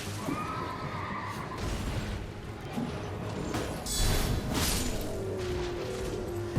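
A summoned horse in the Elden Ring video game lets out a neigh amid game sound effects and a low rumbling background, with brief clashing noises, no talking.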